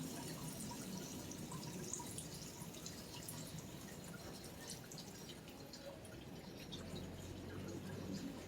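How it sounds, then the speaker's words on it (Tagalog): Water running and dripping down a car windshield treated with Rain-X glass cleaner, a steady close wash of trickling drips throughout with no speech. "kung paano dumadaloy pababa at mawala yung tubig sa windshield"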